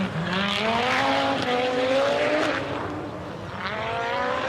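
A 1,000-horsepower Nitro Rallycross car engine roars and revs up and down through gears on snow and ice, loud and close, with a faint tire squeal.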